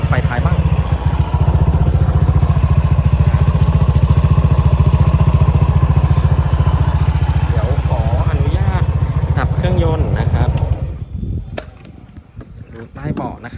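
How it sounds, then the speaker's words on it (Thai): A 2018 Honda PCX scooter engine idles steadily with a low, even chugging hum, close by, then cuts off near the end, leaving a few clicks and faint rustling. "เครื่องยนต์เสียงเงียบนะครับ"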